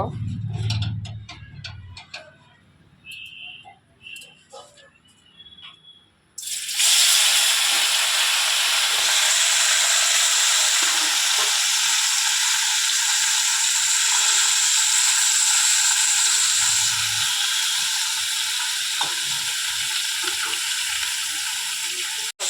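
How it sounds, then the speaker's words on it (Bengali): Fish coated with turmeric and salt dropped into hot oil in a kadhai, a few faint clinks first, then a sudden loud, sustained sizzle and hiss that fills the rest of the clip, close up. "কড়াইতে তেল বসিয়ে দিয়েছি মাছগুলোকে একটু ভেজে নেব"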